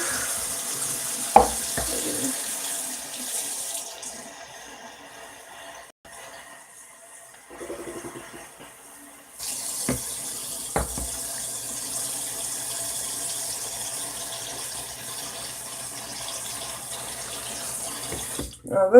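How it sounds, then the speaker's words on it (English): Water runs from a tap into a measuring container during a test of overnight diapers, a steady hiss that pauses midway, then resumes and continues to the end at a moderate, close level. "Fill up my water again."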